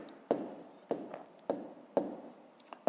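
Numbers are written by hand during a fifth-grade math exercise, a pen or pencil tapping and scratching in short strokes, with about five distinct close strokes, each a sharp tap followed by a brief scrape.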